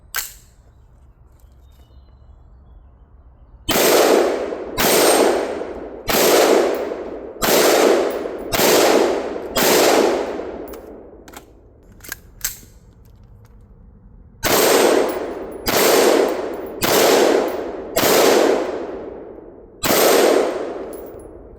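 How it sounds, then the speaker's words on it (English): An AR-15 rifle fitted with a CMC flat trigger fires downrange in spaced single shots, loud and close, in two groups of several rounds with a short lull between them. "I'm going to go ahead and just throw a couple rounds down range and make sure everything's good"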